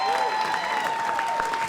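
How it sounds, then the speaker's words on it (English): Audience applause at a comedy show for the comedian's fellow performers, a dense crowd clapping with voices and cheers mixed in, plus a sustained tonal sound running underneath. "And another hand, please, for my colleagues, for Mary Radzinski"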